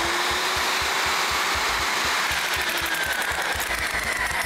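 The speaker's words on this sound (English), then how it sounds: "you want to reverse the drill" A power drill running in reverse on a band clamp tool whirs loudly and continuously with a rapid buzzing motor pulse, its pitch shifting slightly as it runs.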